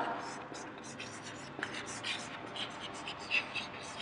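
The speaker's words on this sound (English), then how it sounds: "I will write it here" A teacher writes on a board in a quiet room: faint, intermittent scratching strokes with small taps, close and soft, with no other sound competing.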